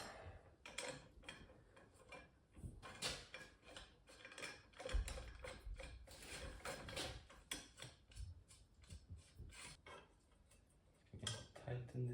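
Metallic clinks, ratcheting and scraping ring out close by while a steering pivot joint on a 2 stroke Yamaha outboard motor is tightened, in irregular bursts with faint shop background.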